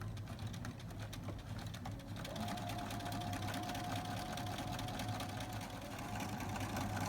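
A sewing machine back stitches a seam on a drawstring backpack, its motor running in a steady, close, continuous whir for the whole stretch with no talking.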